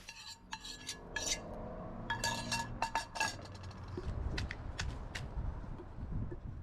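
Garlic pounded in a stone mortar and pestle, sharp close knocks in irregular bursts, followed by softer grinding and scraping, with no talk.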